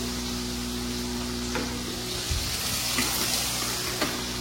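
Water runs into a cooking pan during Bengali curry preparation, a steady close hiss with faint clinks and a low background hum.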